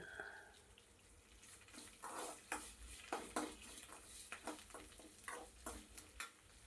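Drumstick leaves and tamarind being sautéed in a pan, quiet sizzling broken by a series of scraping stirs in an irregular rhythm, close but faint, with no voices.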